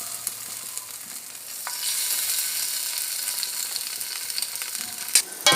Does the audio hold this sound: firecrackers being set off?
no